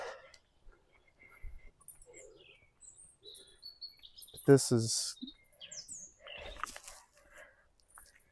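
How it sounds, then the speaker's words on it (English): Scattered bird chirps and tweets in a quiet outdoor setting at monastery ruins in Germany, with a brief spoken voice in the middle. "the sounds of the birds."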